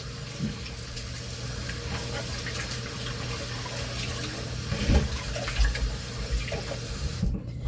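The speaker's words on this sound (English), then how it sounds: "So after washing this rice, I'm going to be taking the water out." Water swishes and trickles as rice is rinsed in a bowl while cooking rice for a rice cooker, a soft continuous splashing with a few louder sloshes near the end, close and fairly quiet.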